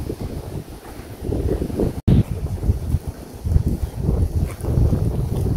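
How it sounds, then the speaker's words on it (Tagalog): Strong wind buffets the microphone on the seaside near the Sanxiantai arch bridge in Taiwan, a steady rumbling roar with gusts swelling throughout and a brief cut about two seconds in. "Sobrang lakas ng hangin. Kasi nga, tabing dagat."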